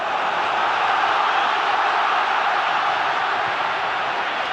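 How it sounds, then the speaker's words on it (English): Aston Villa football crowd cheering at a match against Manchester United, a dense, steady roar of many voices filling the whole stretch at close, loud level without any break. "It's something at last for the Villa fans to cheer."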